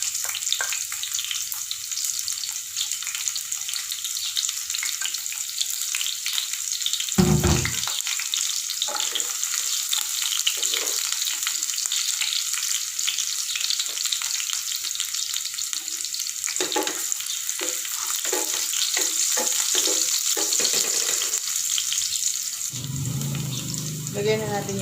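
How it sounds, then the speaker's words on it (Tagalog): Onion and garlic fry in a pan for spicy pork binagoongan, a steady close sizzle running throughout, broken by brief clatters of stirring and a short burst of louder activity near the end. "maglalagay na ako ng onion. And of course, susunod ko agad yung garlic."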